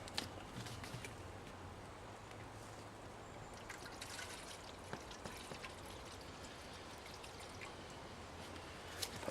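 Water poured from a bottle into a Kelly Kettle outdoors, a steady soft trickling pour running continuously at low volume with faint background noise.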